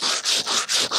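Hand sanding of metal with 120 grit sandpaper during a skylight leak repair, heard as four quick, close back-and-forth scratchy rubbing strokes in an even rhythm, no voices.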